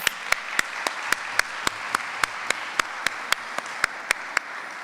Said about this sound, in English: I just want to give both teams a hearty round of applause.